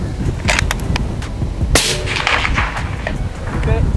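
Sharp, loud gunshots crack at a shooting range as a gun fires at a barrel target, several reports spaced unevenly with echoing tails, and people talk briefly between shots.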